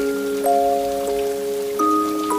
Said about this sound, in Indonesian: hujan turun sangat lebat